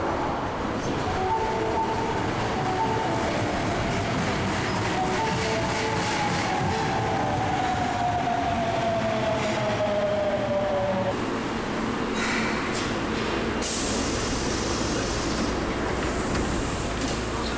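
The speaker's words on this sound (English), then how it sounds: "here comes the train." A train pulls into a station on a line running from Osaka toward Kyoto, its steady rumble and wheel noise filling the platform, with a long descending brake whine before the carriages roll to a stop and a hiss sounds near the end.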